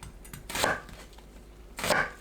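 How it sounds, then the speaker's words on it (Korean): Two sharp bursts of a knife chopping onion into bite-size pieces on a board, about a second apart, close and fairly loud with quiet between them. "양파를 한입 크기로 썰어주세요."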